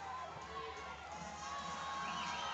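At a high school powerlifting meet, the crowd cheers and shouts steadily from a distance, rallying behind a lifter attempting a world record.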